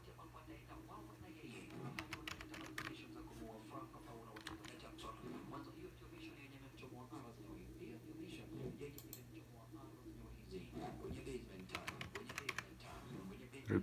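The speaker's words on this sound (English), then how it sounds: "Enter your login details." Login details typed on a computer keyboard during a macOS Ventura installation on a Haswell hackintosh, quiet irregular key clicks in scattered bursts against a low steady hum, with faint speech in the background.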